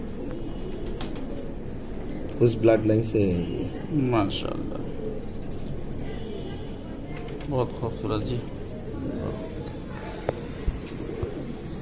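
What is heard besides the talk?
white duck pigeon cooing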